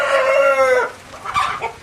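A rooster and hens in a poultry breeding unit: one close, loud, drawn-out call from the rooster, then a few short clucks, all within about two seconds.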